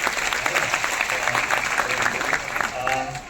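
Applause from a seated audience at a large coaching-class meet-up event in Prayagraj, a dense steady patter of clapping that holds for the whole stretch and eases slightly at the end, with voices mixed in underneath.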